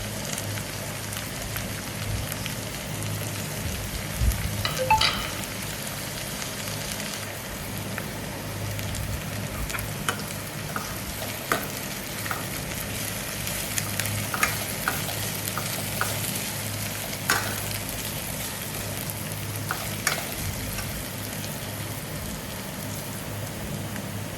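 Bitter gourd (karela) with onions fries in a pan, a continuous close sizzle with occasional crackles and pops, steady and fairly loud throughout, with no talking.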